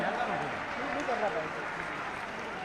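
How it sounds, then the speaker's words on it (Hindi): Crowd applause at a state National Ayurveda Day event attended by the chief minister, a soft, even wash of many hands clapping at a distance, with a faint voice beneath. "तालियां एक बार जोरदार माननीय मुख्यमंत्री जी के लिए।"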